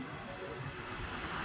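A train pulling into and halting at a station on the route near Bolpur, heard as a steady rumbling rail roar with a faint high wheel squeal, continuous throughout.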